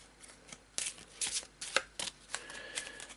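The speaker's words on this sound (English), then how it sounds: "We'll shuffle the deck as we were told." Board game cards from an Eldritch Horror deck being shuffled by hand, several short crisp riffling bursts with brief pauses between, close and clear, with no talk.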